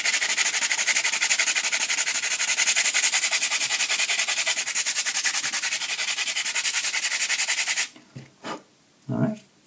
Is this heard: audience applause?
no